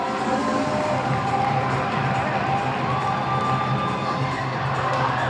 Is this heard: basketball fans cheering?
yes